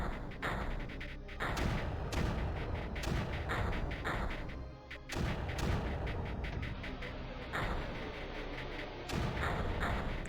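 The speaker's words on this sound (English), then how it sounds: "The mortars are doing some work right now." Mortars fire in the Creeper World strategy game: heavy, booming thumps land in a steady rhythm about every second or so, each burst loud and full, with crackling blasts filling the gaps.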